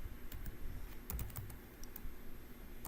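Keys clatter on a computer keyboard in a quick, irregular burst of close, quiet clicks with no talking.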